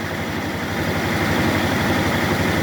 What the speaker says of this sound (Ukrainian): Запускається в роботу вакуумна установка реверсного типу, дозволяє закачувати і викачувати жижу з бочки.